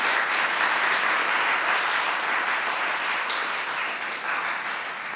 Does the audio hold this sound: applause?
yes